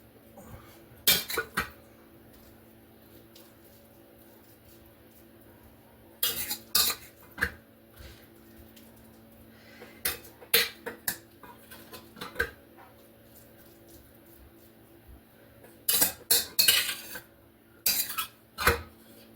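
A spoon scoops spinach into quiche pans in a quiet kitchen, with short scraping clinks of metal on pans that come in a few separate bursts and leave long near-silent gaps between them.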